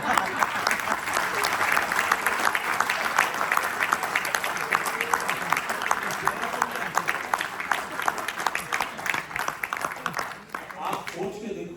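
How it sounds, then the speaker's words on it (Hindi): An audience claps steadily through a leadership seminar event, the dense applause keeping an even rhythm for nearly twelve seconds while voices sound among the crowd. "आप लोग इस हाथी के लिए ऐसा ताली बजाओगे?"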